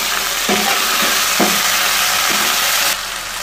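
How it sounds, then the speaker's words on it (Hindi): Ginger garlic paste fries in a hot pan with a loud, steady sizzle, punctuated by a few soft knocks of stirring. "अब मैं अदरक लहसुन का पेस्ट इसमें ऐड करूँगी, इसको अच्छी तरह से भून के।"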